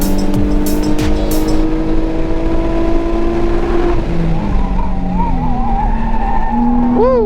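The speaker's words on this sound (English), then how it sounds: "Set it up for a perfect just oversteer into the corner." Race car tires squeal loudly as the car oversteers into a corner on a circuit track, engine droning steadily underneath with rising and falling whine and a sharp squeal at the end.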